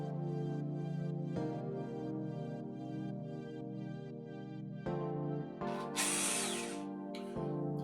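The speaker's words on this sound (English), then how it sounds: "The battery operated Makita caulking gun." A battery-operated Makita caulking gun runs with a steady motor whine in several bursts. Short clicks mark the changes, and a brief hissing burst comes near the end.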